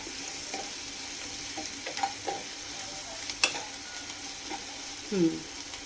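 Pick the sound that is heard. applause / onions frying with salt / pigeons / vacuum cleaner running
onions frying with salt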